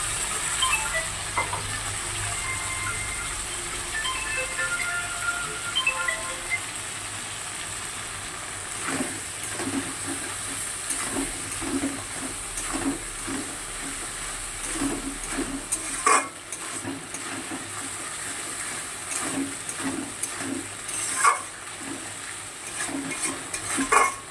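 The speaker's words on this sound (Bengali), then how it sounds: "এবার আমি দেখো আদা রসুন যেটা পেস্ট করতে নিয়েছিলাম পেস্টটা দিয়ে দিলাম।" Ginger garlic paste frying with fish and potatoes in a pan, a steady low sizzle under repeated scraping and stirring of a utensil against the pan, close and continuous with no talking.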